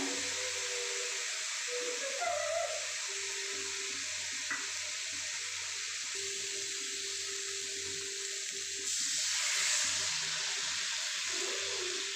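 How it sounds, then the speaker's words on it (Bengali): Water pours steadily into spicy rice and fish curry in a pot, a continuous close gushing hiss that swells slightly toward the end, with no talking. "এখন আমি এখানে ফাইনালি জলটা দিয়ে দেবো যতটুকু লাগবে"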